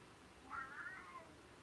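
A cat gives a single short meow in the middle of a quiet room, soft and slightly distant, with no other sounds around it.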